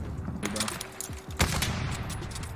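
Sniper rifle shot in the Call of Duty Vanguard video game, a single sharp report with a booming tail, set among faint game effects and a voice talking.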